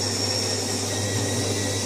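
A Jura coffee machine's burr grinder grinds beans for a latte, a steady, even mechanical whir and hum held at constant level for the whole short stretch, close and alone.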